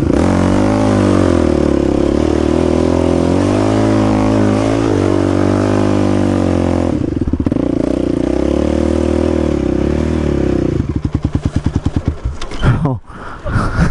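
A 1000 cc motorcycle revs hard and rides off, its loud, steady engine drone rising and falling through the gears before breaking into rapid, choppy bursts and a sharp throttle blip near the end.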